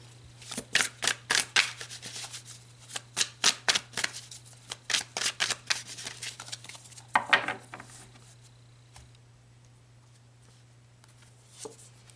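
Tarot cards being shuffled by hand: a run of close, papery riffling bursts in a steady rhythm, then a few softer rustles before a mostly quiet stretch.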